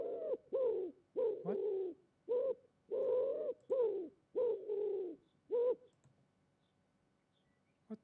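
Soft, repeated bird coos in a steady series of about ten hoarse calls, fairly close, with one brief spoken word in the clip.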